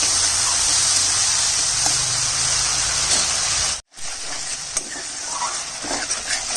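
Spice paste and tomato for a fish curry sautéing in a pan, giving a loud, steady sizzle with stirring. The sizzle cuts out briefly midway, then returns quieter with scattered scrapes and crackles.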